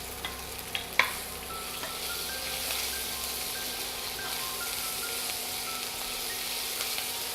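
Cumin, chopped green chilies and grated ginger frying in a pan for a Marwari papad curry, a soft steady sizzle with a few light clinks and stirring noises near the start.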